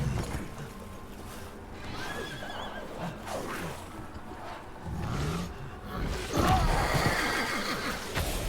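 In the Resident Evil Village video game, a zombie horse whinnies and snorts amid clopping hooves and rough, growling ambience, with loud neighs near the end.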